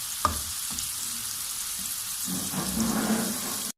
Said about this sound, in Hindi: माशाल्लाह से कबाब हमारे बड़े अच्छे से फ्राई हो रहे हैं।